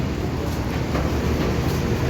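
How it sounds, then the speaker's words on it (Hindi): Peshawar BRT metro at a station, a loud continuous rumble of the transit vehicle and station with steady broadband noise throughout and no clear speech. "मेट्रो ये BRT है पेशावर की"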